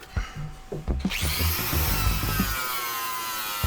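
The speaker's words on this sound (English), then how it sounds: "starting off with the wire wheel, removing all of this loose rust and hopefully getting a little bit of bare metal behind it" A power wire wheel spins up and scours loose rust off the body of an Alfa Romeo 145 Cloverleaf. A few short knocks come first, then a sustained, harsh, high whirring grind, heard up close.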